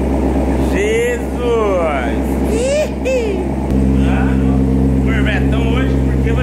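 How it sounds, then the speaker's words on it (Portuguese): A car engine starts with a loud roar and keeps running at a heavy idle with a shift in pitch partway through, while people talk over it. "Na hora que liga o carro, foi um barulhão"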